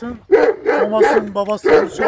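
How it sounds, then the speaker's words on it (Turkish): An Anatolian shepherd dog barks several times in quick succession, loud and close, while someone talks over it. "Köpek havlamasından dolayı sesimiz gelmeyebilir oğlum."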